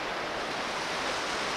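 Surf breaking along a shallow, ankle-deep ocean shore, a steady broad wash of waves and spray, close and continuous with light wind noise and no voices.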